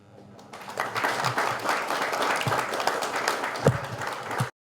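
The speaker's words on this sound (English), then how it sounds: "CY, a big round of applause to CY." Sustained applause from a crowd at a youth empowerment closing ceremony in Fiji, steady clapping lasting several seconds before cutting off abruptly.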